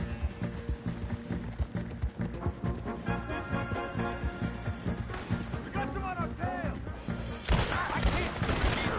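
A dense fusillade of gunfire in the Western video game Red Dead Redemption 2, with sharp repeated shots over galloping horse hooves and shouting voices, growing louder and busier toward the end.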